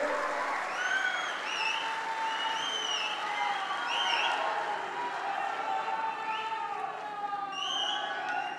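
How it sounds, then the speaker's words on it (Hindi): A large crowd at an Amit Shah political rally in Ratnagiri, held to campaign for Narayan Rane, claps loudly and steadily throughout, with scattered whistles and cheers rising above the dense applause. "आप जोर से ताली बजाइए"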